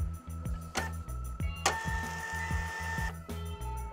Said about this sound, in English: The media now prints with even pressure and good resolution.